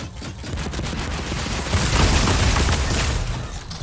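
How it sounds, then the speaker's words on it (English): Rocket explosions in the battle royale game Fortnite, a dense continuous barrage of booms and crackling blasts that swells louder midway and stays heavy throughout, with no pauses between impacts. "Start some rockets up."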